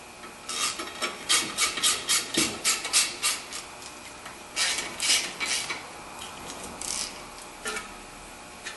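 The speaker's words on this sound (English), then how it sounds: "you're going to put that Torx screw back into the face of the rotor and tighten that down" A Torx screw being driven back into the face of a front brake rotor on a 2014 Audi A4. A tool rasps and ratchets close by in a quick run of repeated short strokes, a pause, then a few more bursts.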